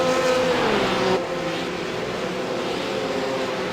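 Porsche GT3 race car at Zandvoort in a sim racing game, its engine note rising steadily under acceleration, then dropping into a continuous sustained drone, loud and alone.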